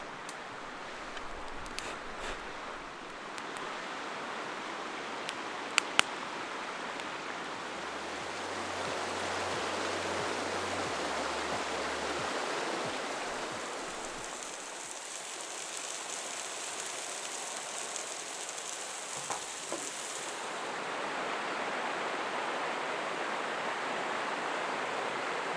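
A flowing creek in remote Idaho rushes steadily in a constant broadband wash of water, close and continuous throughout with no voices.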